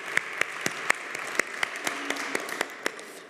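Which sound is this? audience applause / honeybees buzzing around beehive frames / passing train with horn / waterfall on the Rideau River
audience applause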